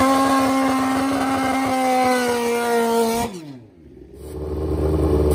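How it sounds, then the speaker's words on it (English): Loud, high-revving engine note of a 1980 Suzuki GS Pro Street nitrous drag bike making about 575 horsepower, a steady harmonic scream that cuts off, dips into near-silence, then rumbles back as a lower idle. "their incredibly popular old school 1980 Suzuki GS Pro Street Drag Bike"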